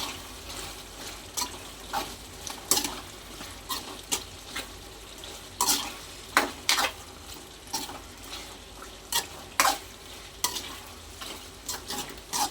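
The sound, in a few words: mixing spicy chicken fry with chilli powder in a pan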